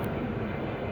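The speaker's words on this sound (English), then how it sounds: "Excuse the airplane. I live near an airport." Steady, loud roar of an airplane flying low overhead near an airport, a broad continuous rumble with no break or talking.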